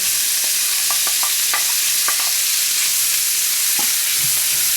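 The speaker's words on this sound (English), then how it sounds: "And I'll chuck in the bacon." Bacon fries in butter and olive oil in a pan, a loud constant sizzle with scattered crackles and pops from close up.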